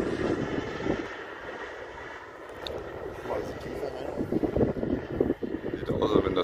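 A model L-39 Albatros jet flies overhead with its landing gear still down, its turbine whine and rushing air noise rising and falling with wind buffeting, while people talk nearby.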